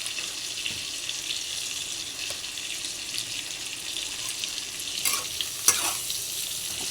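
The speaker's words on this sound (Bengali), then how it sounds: "তো আলুটা আগে আমি ভালো করে ভেজে নিই" Potatoes fry in oil seasoned with turmeric and salt, giving a steady, moderate sizzle with occasional stirring clatter and a couple of brief sharper pops near the end.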